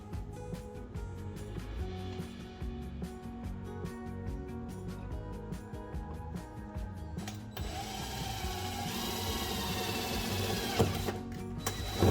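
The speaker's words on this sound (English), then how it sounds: "I'm just using some self-tapper screws because they work great to drill pilot holes with." A power drill whirs continuously as self-tapping screws bore into scrap steel for a shifter mount, a steady mechanical grind that rises and gets harsher toward the end.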